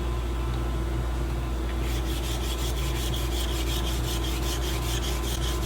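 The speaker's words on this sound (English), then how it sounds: "Let's just use a block of wood and a piece of sandpaper." Sandpaper of about 150 grit wrapped on a wood block rubs against wood, a close, continuous scratchy rasp that turns into rhythmic back-and-forth strokes midway, with no talk.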